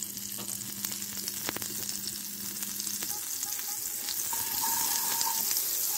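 Butter melts and sizzles in a frying pan at the start of a dessert sauce, a close, steady crackling hiss that grows slightly louder, with a faint tone and a few clicks behind it.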